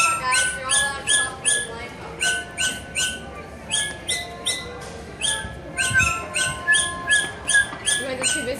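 Electronic toy birds chirp a Jingle Bells melody in bright, repeated squeaky notes in a steady rhythm, close and fairly loud, with faint store background noise.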